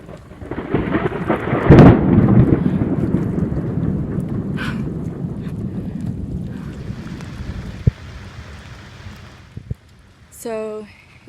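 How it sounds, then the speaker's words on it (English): Steady rain at sea aboard a 27-foot sloop, with a low rumbling roll of thunder overhead swelling early on, then continuing patter and a brief burst of hiss near the end. "So it's raining and the thunder is pretty much right overhead."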